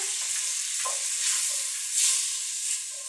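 Spoon stirring flour into coq au vin in a hot pot, a steady sizzle of frying fat with soft scraping strokes and a few louder swells, no talk.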